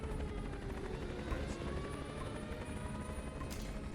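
Helicopter rotors thrum continuously in the Command & Conquer real-time strategy game, a steady fluttering drone with faint distant gunfire mixed in and no talk over it.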